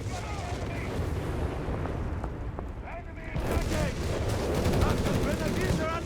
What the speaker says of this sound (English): the Vespa hard at work here. Plus the mortar.